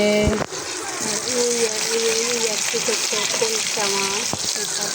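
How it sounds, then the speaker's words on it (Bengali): Baila and bata fish frying in a pan, a steady hiss and sizzle running underneath a person talking throughout, with a sharp clatter at the start. "মাছ ভাজা বসাই দিলাম"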